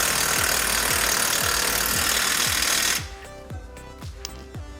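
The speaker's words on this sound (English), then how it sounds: "we're ready to install the bolt now." Power tool rattling in quick rapid impacts while fastening a bolt on a BMW E46 ZHP rear coilover, then stopping as slower ratcheting clicks follow at close range.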